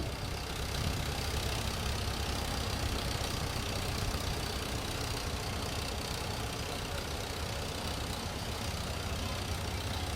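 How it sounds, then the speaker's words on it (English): A 1938 Farmall F-20 tractor drives in a threshing bee tractor parade in Mankato, Kansas, its engine giving a continuous, rough, broadband rumble at a steady level with no talking. "Next is a 1938 F-20 Farmall, owned by Richard and Kim O'Boyles and driven by Richard, Eston, Kansas."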